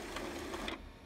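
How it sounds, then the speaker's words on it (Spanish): An inkjet printer cleaning its print heads makes a steady mechanical whir with a rapid rattling pulse, close and soft, cutting off abruptly near the end. "Ahí se escuchan los ruidos que emite al limpiar los cabezales."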